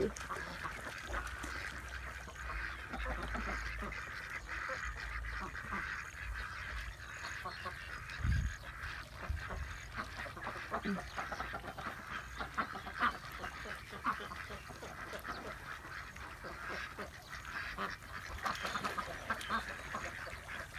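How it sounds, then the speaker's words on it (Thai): Several ducks quack and honk off and on at a distance over a low, steady outdoor background, with faint voices now and then. "อะเดี๋ยวปล่อยให้เป็ดเขาเล่น น้ำไปก่อนนะคะ"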